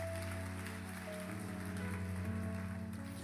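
Congregation applauding at a church service, a dense, steady wash of many hands clapping that fills the whole stretch evenly, with sustained organ or keyboard tones held underneath.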